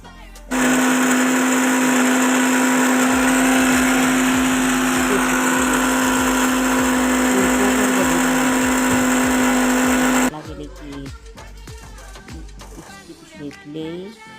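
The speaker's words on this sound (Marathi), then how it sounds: "मिक्सरला बारीक करून थोडी साखरेमध्ये" A kitchen mixer grinder runs loudly for about ten seconds with a steady high whine and hum while grinding biscuits, then cuts off abruptly, leaving quieter household noise and a voice.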